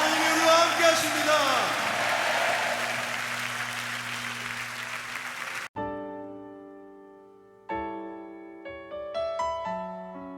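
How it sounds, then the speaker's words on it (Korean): Congregation applause during a Sunday church service, a loud sustained clapping for the first half that fades and gives way to sustained keyboard chords. "다시 한번 하나님께 영광의 박수를 올려드리겠습니다."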